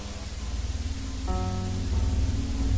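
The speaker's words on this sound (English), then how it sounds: "The footage begins with extremely loud static playing over a piano" Harsh, loud static roars over soft piano notes in Minecraft footage, the noise steady and swelling slightly while a cluster of piano tones rings out partway through.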